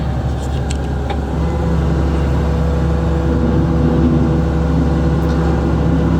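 Hitachi excavator engine idling and being put in gear, a steady close low diesel rumble with a faint mechanical clunk early on and no clear revving.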